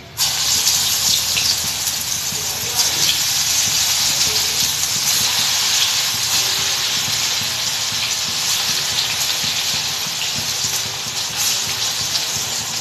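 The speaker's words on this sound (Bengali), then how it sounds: "ভাজার পর আমি আবার দেখা হচ্ছে আমি ডালের বড়া বা পেঁয়াজ ভেজে নিচ্ছি" Lentil fritters or onions frying in hot oil in a pan, a loud, steady bright sizzle that runs unbroken close up for the whole stretch.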